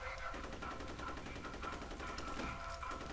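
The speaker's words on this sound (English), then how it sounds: "when you're being shot at" Rapid automatic gunfire in the shooter F.E.A.R., a fast continuous rattle of shots, fairly faint and distant, running throughout the short clip.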